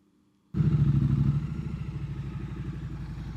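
A motorcycle engine fires up abruptly after a moment of quiet, then settles into a loud, close, pulsing rumble that holds steady as the bike gets under way on the road.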